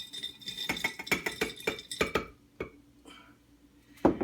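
Coarsely chopped hazelnuts, about two cups, tipped into a glass jar, a quick run of rattling clicks and clinks against the glass, then a pause and one final clatter.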